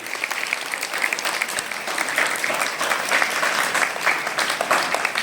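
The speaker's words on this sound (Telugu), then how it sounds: "ఒకసారి గట్టిగా చప్పట్లు కొట్టండి" An audience at a gathering bursts into loud, dense applause that continues steadily from start to finish, with many hands clapping at once and no pause.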